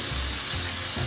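Onions frying in a pan, a steady loud sizzle with a faint low rumble, close and uninterrupted for about a second.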